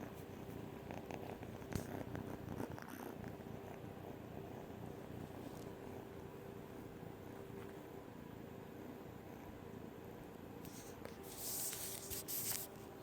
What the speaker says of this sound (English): Oh, crazy kitty.